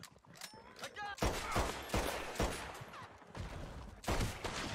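Pistol gunfire in Red Dead Redemption 2: a rapid series of sharp, loud shots in irregular bursts, with game ambience between them.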